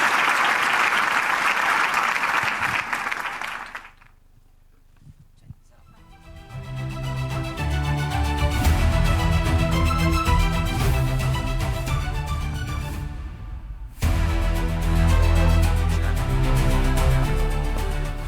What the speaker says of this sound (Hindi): Give a huge round of applause